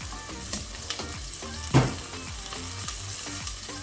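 Spinach frying in a pan with onions, oil and royco gives a steady crackling sizzle, with occasional stirring scrapes and one louder clatter midway.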